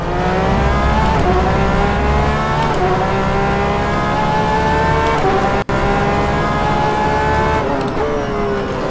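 A Porsche 911 RSR GTE race car in rFactor 2 at Portimao, its engine note loud and continuous, rising through the revs and dropping sharply at each upshift, with a brief cut in the middle and no talking.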